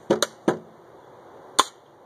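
A UKarms M180C2 airsoft gun firing four sharp, close shots: two in quick succession, a third right after, then a single shot after a pause.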